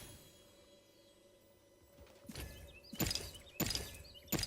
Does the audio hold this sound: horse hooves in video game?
yes